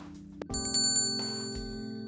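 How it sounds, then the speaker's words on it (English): A shop door bell rings in the video game Angels With Scaly Wings, a short bright chime with a sustained, slowly fading tone over a low background hum of game music. "I entered the store, the sound of the bell alerting the staff to my arrival."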